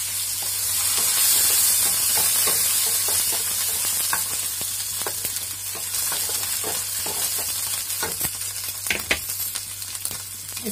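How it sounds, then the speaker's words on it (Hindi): Mustard seeds and chopped chilli sizzling and crackling in hot oil in a home kitchen, a steady loud frying hiss with scattered sharp pops and stirring scrapes, and no voices. "राई चटकने लगा उसके बाद थोड़ा मिर्चा"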